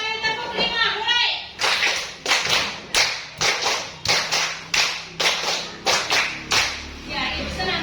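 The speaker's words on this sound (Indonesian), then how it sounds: "Tiga kali tepuk lima, mulai." Schoolchildren in a classroom clap a set rhythm pattern of threes and fives in sharp, evenly spaced bursts after a teacher briefly speaks.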